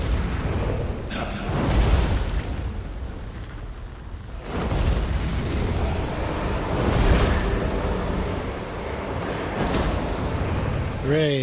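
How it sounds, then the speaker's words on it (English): Repeated booming explosions from World of Warcraft combat, heavy rumbling blasts that swell and fade in waves over about eleven seconds, with a brief burst of speech near the end. "I walk into the explosions."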